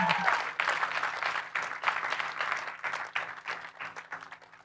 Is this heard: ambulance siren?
no